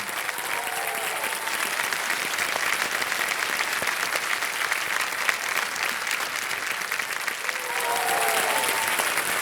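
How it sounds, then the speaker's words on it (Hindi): Studio audience applause on a Kaun Banega Crorepati game show set, steady dense clapping throughout at even loudness, with a faint voice briefly surfacing near the end. "और तालियां जो हैं वो बजती हैं क्योंकि एक चेक आ गया इनके नाम"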